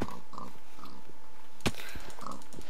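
Pigs grunting in a survival video game, several short snorting oinks spread across the moment with a sharp click-like hit in the middle, fairly close and clear with no talking over them.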